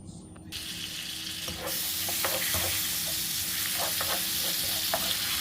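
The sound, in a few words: butter melting with sugar in a pan, stirred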